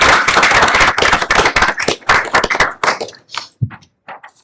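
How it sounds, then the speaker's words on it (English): Attendees at a city council meeting in Pocatello give a short round of applause, dense clapping at first that thins into scattered individual claps before fading out. "if we could give both entities a big round of applause for their support"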